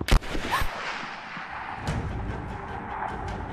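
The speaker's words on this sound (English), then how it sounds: "Damn. Gunshot." Gunfire in the video game Rise of the Tomb Raider: one sharp, loud gunshot at the start, then a rumbling, echoing tail and scattered distant booms.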